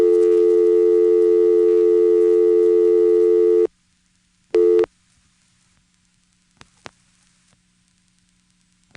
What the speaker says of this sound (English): I'm interrupted by the register reorder.